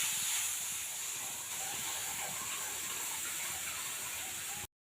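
Water poured into a pan of chandani fish makes a steady hissing gush that runs several seconds without a break, then cuts off abruptly.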